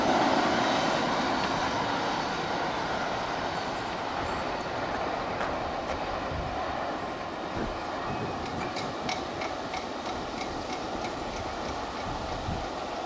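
A CPKC intermodal freight train rolls past in a long, continuous rumble, with steady engine and wheel noise and scattered clicks and clanks from the cars. It is fairly loud throughout, and no voices are heard.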